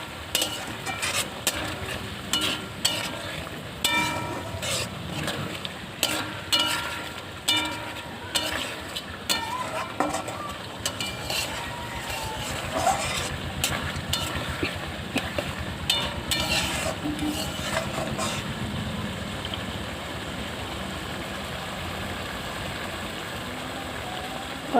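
Chicken masala stir-fried in a pan with salt added, a steady sizzle under repeated rhythmic scraping and stirring strokes, close and continuous.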